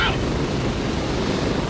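Steady, droning rotor and engine rumble from a helicopter ride in the video game Gray Zone Warfare, heard from inside the cabin as a constant, even wash of noise.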